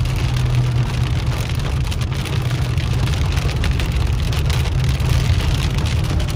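Heavy rain drums steadily on a car in Big Bear City, California, a dense, continuous hiss and patter with a low rumble beneath, loud and unbroken.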